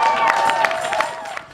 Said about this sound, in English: let's have a round of applause for your bargaining team and strike committee